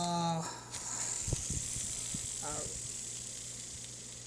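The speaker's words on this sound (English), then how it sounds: "boca bearing on a noise test" A Boca bearing spinning in a noise test gives a steady, faint high-pitched hiss that runs throughout, with a short voice at the very start and a few light knocks.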